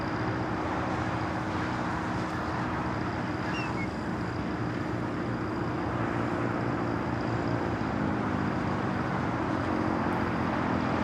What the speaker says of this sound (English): United Dreamliner now rolling down at 25 right